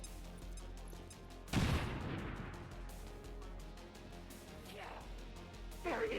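A grenade goes off in the video game XCOM Long War as one sudden loud burst with a rumbling tail, set within a quiet game soundscape that has faint ambient tones.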